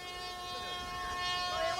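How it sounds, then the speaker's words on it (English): A long tonal siren sounds at a 1991 Border Districts v Penola grand final football match to end the first quarter, a steady sustained wail with crowd noise and a commentator talking over it. "Yes, the siren's gone, and that ends first quarter of play"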